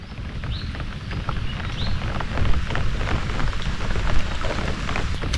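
Steady heavy rain pattering on surfaces, with dense drops throughout and no voices.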